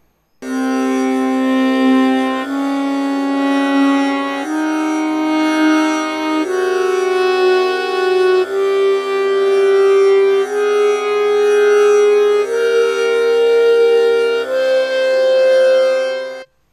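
A Thāta, a scale from Indian classical music, played note by note as a steady ascending run of sustained tones, each held about a second, reedy and continuous with no pauses, heard alone and clear.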